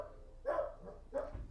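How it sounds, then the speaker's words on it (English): Two muffled barks from a dog somewhere in the distance, about half a second apart, faint against a quiet background. "I don't know if you can hear my dogs barking."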